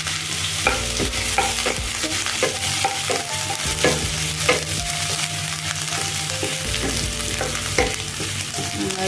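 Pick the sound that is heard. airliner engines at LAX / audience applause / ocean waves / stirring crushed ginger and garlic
stirring crushed ginger and garlic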